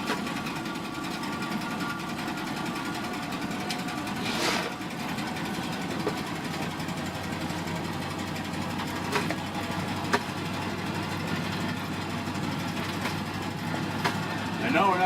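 Bus engine droning steadily while driving between campsites, a low continuous rumble with occasional knocks and rattles, a voice talking over it.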